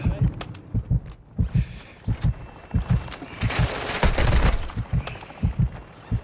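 Gunfire in an online video game is aimed at the player: rapid bursts of heavy shots in an uneven rhythm, with a dense, loud flurry near the middle, sounding close.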